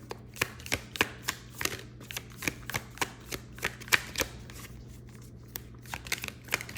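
Tarot cards being shuffled by hand in a steady run of crisp riffling snaps, about two per second, close and fairly quiet over a low steady hum, with no talking.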